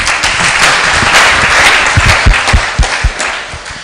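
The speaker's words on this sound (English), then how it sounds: "can you please clap again for them?" Sustained audience applause and clapping at a summer school closing ceremony in Rwanda, steady and loud for about four seconds with some sharper individual claps standing out near the end.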